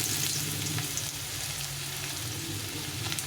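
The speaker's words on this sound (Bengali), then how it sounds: "এখন আমি একটু আলুটা ভেজে নেব প্রথমে আলুটাকে আঙুলটাকে লাল লাল করে ভেজে নেব" Potato pieces frying in hot oil with cumin and a bay leaf, a dense, steady close sizzle with light crackle throughout.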